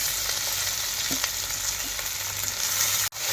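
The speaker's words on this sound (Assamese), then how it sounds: "এই জলকীয়া আৰু মিছা মাছটো পূৰা ফ্ৰাই কৰি আছোঁ মই" River shrimp and jolokia chilies frying in an open pan, producing a loud, continuous sizzle with faint crackles throughout and a brief cut near the end.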